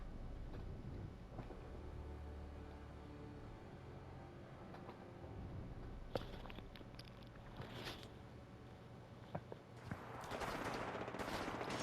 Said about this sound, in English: Oh, lots of shooting.